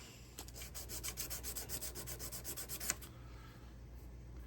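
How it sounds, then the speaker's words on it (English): Sandpaper rubs back and forth over the edge of a metal clip to take off burrs, a quick rhythmic series of close scratchy strokes that stops abruptly, leaving quiet room tone. "It's harder to sand it when I've already sanded one edge, but I'll bring it over here, just to take down any burrs"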